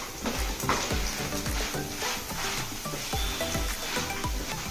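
Taro (colocasia) frying in oil with turmeric sizzles steadily in a pan while a utensil stirs and scrapes through it in repeated strokes.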